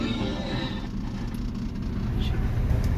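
A 1985 Chevrolet truck with a carburetor, newly running after years of sitting, idles with a low steady rumble that swells slightly toward the end, no talk heard.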